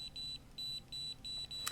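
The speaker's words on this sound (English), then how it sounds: "Hear that beeping?" Electronic beeps from lights being adjusted with a remote: a quick series of short, evenly spaced high tones, soft and close, with no talking.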